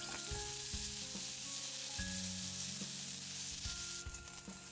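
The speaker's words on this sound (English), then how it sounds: "I put salt oil and add carrot. I stir fry it until it becomes tender." Carrots stir-frying in salted oil in a pan, a steady dense sizzle running throughout with the occasional scrape of stirring and a few tonal clinks, close and fairly quiet, no talking.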